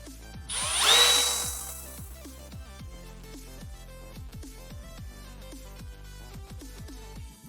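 A drill bit bores into an old enclosure, a loud burst of whining spin at the start, then a steady run of regular clicking, catching pulses as the bit chatters through the material, with no one talking.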